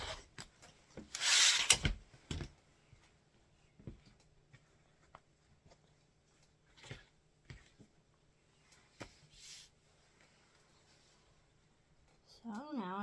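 A rotary cutter slices the selvage edge off cotton quilting fabric laid along a Stripology ruler, giving one brief scraping rub, then a few faint taps and shifts of the ruler before a voice returns.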